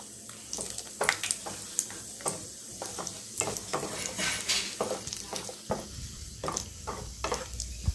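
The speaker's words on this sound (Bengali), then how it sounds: "গরম হয়ে আসলে এবার আমি কাজুগুলো ভেজে নেব" Cashews frying in hot oil in a wok, a steady sizzle broken by sharp clinks and scrapes of a spoon stirring against the metal pan, with no talking.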